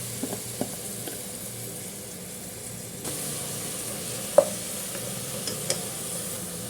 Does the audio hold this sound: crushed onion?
yes